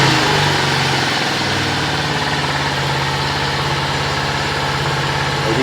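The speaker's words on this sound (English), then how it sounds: "it's idling just a little bit high" A new 2023 Venom SS3 KP mini 150 motorcycle idles slightly high on its first start, a steady close rumbling putter with even pulses throughout.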